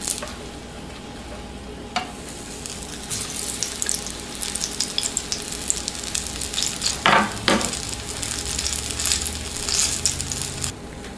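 French toast sizzles steadily in a hot frying pan, a dense crackling hiss that runs the whole time, with a few louder clatters and scrapes from the pan near the middle.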